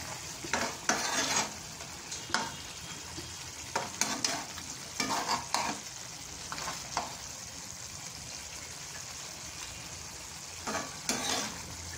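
A spoon stirs mackerel fish curry with crushed garlic in a pan, scraping in short irregular bursts over a faint, steady sizzle, close and moderately quiet.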